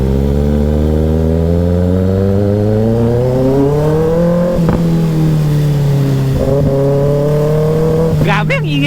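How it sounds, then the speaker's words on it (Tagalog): A Kawasaki ZX-6R motorcycle with a loud burnout exhaust, its engine note rising steadily as it accelerates through gears, heard close and continuous with a brief blip near the end and a voice talking over it. "Grabe, ang ingay talaga ng burnout exhaust na to."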